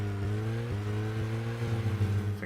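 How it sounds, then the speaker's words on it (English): A car engine in Deadly Premonition drones steadily and loudly throughout, its pitch rising and dipping slightly with throttle changes, with no voices over it. "the car engine noise is very loud"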